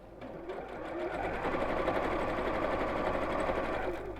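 Close, continuous rattling hum of a sewing machine stitching a tote bag seam, running steadily and speeding up slightly after a brief start, with no talking.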